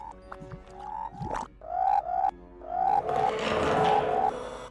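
A magic frog in a video game gives a series of rising, whistly croaks, roughly seven in a row, close and fairly loud, with a swelling wash of game sound and effects behind the later calls.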